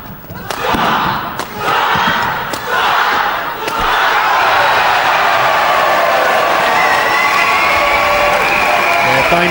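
A crowd of national junior badminton squads at the All England 2005 men's doubles, with thumps and slams of play giving way to loud, sustained cheering and applause that fill the hall.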